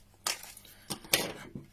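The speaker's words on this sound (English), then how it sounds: "So I've got my trusty scissors with me, so we shall snip it open along the line." Scissors snip open a Pokemon Pikachu beauty face mask packet, giving a few short, crisp cutting and crinkling bursts close up, with quiet gaps between them.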